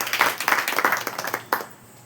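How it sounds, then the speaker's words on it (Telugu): A church congregation claps during a sermon. Several loud, rhythmic bursts of hand claps come close together and then stop abruptly, leaving a brief quiet tail. "గట్టిగా చప్పట్లు కొట్టండి."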